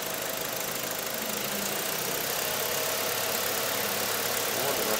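An Audi A4 engine fitted with a new high-output alternator runs loud and close, a dense steady roar that builds slightly toward the end, with no voices heard.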